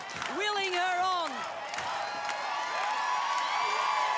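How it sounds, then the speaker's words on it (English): An arena crowd at Australian Ninja Warrior 2017 cheers and whoops on a female competitor mid-run, a steady roar with rising shouts, while a commentator talks over it. "The crowd is pumped, willing her on."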